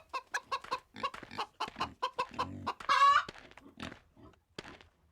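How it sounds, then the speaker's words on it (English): Roosters clucking in the video game Wild West Dynasty, a loud, close run of sharp rhythmic clucks with a longer crowing call in the middle, then fading to softer clucks. "All of the so-called chickens are actually roosters."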